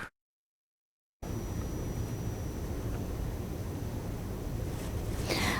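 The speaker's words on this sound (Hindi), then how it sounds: "అంతే వరదని గేట్లన్నీ ఓపెన్ చేయడం ద్వారా కిందకి దిగువ నదిలోకి వదులుతూ జరుగుతూ ఉంది." Floodwater rushes through the open gates of a dam into the river below, a steady, loud broadband roar that sounds after a brief silence at the start.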